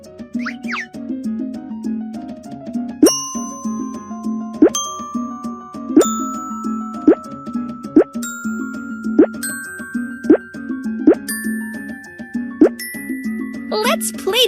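Bottles tapped one after another in the Baby Panda kindergarten video game ring out as bright, clear pitched dings, each struck note rising over a steady background music bed in a regular, evenly spaced sequence.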